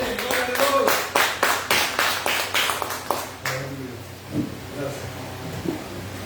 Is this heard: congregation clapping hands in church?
yes